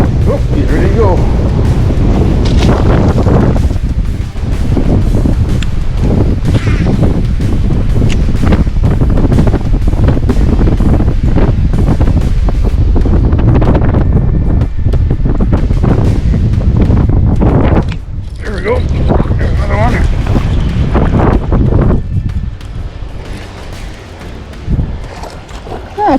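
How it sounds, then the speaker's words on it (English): Strong wind buffets a fishing boat on open water, a loud continuous roar of gusts and microphone rumble with waves slapping underneath, easing briefly near the end before picking up again. "Here's the wind."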